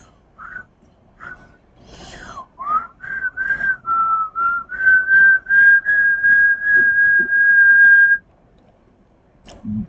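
A person with missing front teeth whistles a series of short notes that settle into a steady, sustained tone, loud and close, then stops.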